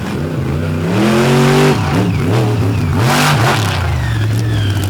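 A straight-line racing truck launches and accelerates hard down a drag strip in Xenia, Ohio, its engine a loud, close roar that climbs through rising, shifting pitch with a brief gear-change dip before continuing to wail.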